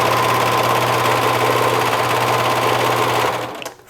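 Loud and close, a sewing machine stitches knit T-shirt fabric at a fast, steady hum that winds down and stops near the end.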